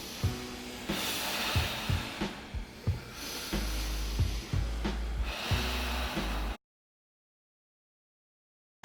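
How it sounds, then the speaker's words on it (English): During an abdominal contraction exercise, a person takes a series of forceful nasal breaths, short rhythmic sniffs and snorts repeating about once a second, loud and close, then silence. "I inhale again, I exhale."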